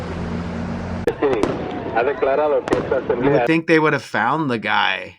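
Sharp bangs of fireworks set off by protesters in the middle of an Arizona street intersection crack out one after another, mixed with someone talking near the microphone.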